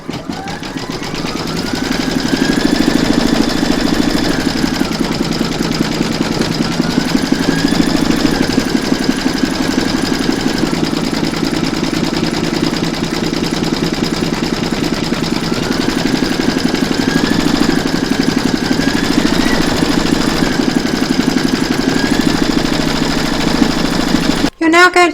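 Embroidery machine stitching the word Christmas on an in-the-hoop large bells appliqué, a loud, steady, rapid mechanical hum and needle rattle running continuously, then stopping at the end.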